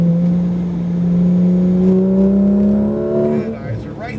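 A car's engine accelerating on the Speed Vegas track, with a steady rising drone that swells and then shifts pitch near the end, loud and close under an instructor's voice giving directions.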